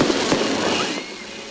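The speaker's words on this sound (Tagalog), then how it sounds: "May magarbong fireworks display din." Fireworks bursting at an Easter celebration, a loud crackling blast that sizzles and fades over about a second and a half, with no talking.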